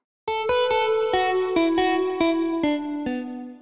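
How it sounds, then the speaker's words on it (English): Guitar tone played by a MIDI riff converted from a sung vocal line in Ableton Live, a run of about ten plucked notes in steady rhythm with bright harmonic sustain and a slight chorus-like shimmer, loud and close with no talk. "So I'm gonna turn my little riff into a guitar sound,"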